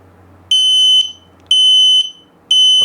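X-Sense hardwired smoke and carbon monoxide alarm sounding its test signal: three loud, piercing electronic beeps, each about half a second long and evenly spaced, close up with no talking.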